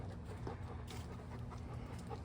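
Dogs out on an evening walk give off steady, fairly quiet panting, a continuous rhythmic breathing heard close by against faint background noise, with no talking.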